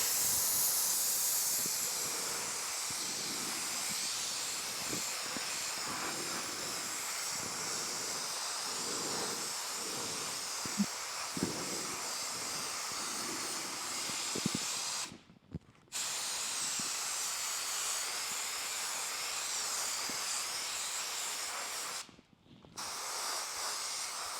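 A Harbor Freight airbrush sprays paint with a continuous airy hiss of fine spray running steadily, broken by two brief pauses when the flow stops and restarts, with faint tapping underneath.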